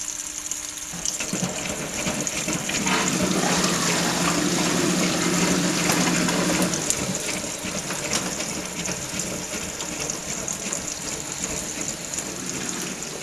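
A Brandt 532 Super washing machine in its water cycle draining down toward washing level, a steady loud rush of flowing water with a mid-pitched pump whine, continuous and close with no voices.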